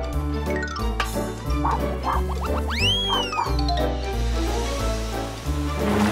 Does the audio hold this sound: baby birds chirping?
no